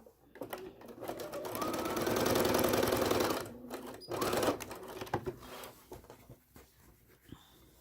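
A sewing machine runs in a steady, fast mechanical chatter while stitching quilt diamonds, pausing briefly and then resuming in shorter bursts, with soft handling noises between runs.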